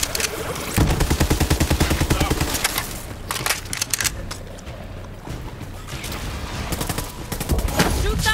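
Fast automatic gunfire from the co-op shooter Borderlands 3 rattles in a steady, rapid burst, followed by scattered shots and more bursts. The shooting is loud in the foreground, with players talking over parts of it.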